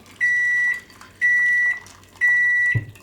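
Three evenly spaced electronic beeps, each about half a second long, clear and close, with a small thump near the end.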